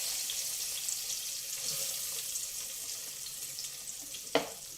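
Onion pieces, curry leaves and green chillies frying in hot oil in a pan for a ridge gourd and chana dal curry, a steady hiss of sizzling throughout with a brief clatter near the end.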